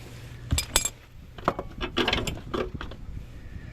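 A socket wrench loosens a 17mm nut on the front lower control arm of a GZG50 Toyota Century, giving close, irregular metallic ratcheting clicks and clinks in short bursts.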